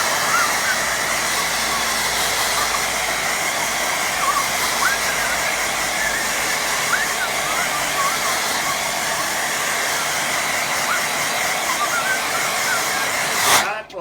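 A hair dryer blows steadily over a watercolour painting of a summer stream, a loud continuous whooshing roar that holds unbroken for most of the stretch before cutting off abruptly near the end.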